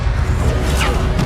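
Fire spell cast in Hogwarts Legacy, a short loud whooshing burst with a crackling rush and a quick rising swish, over low rumble.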